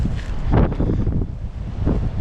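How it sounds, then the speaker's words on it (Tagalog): Strong gusting wind buffets the microphone in a continuous roar, swelling and easing in waves, with a faint hint of water nearby. "Sobrang hangin po ngayon."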